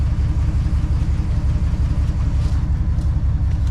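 Deep, throbbing V8 exhaust rumble from a 1966 Ford Fairlane with a 390 FE engine at close range, a steady low burble with no voices.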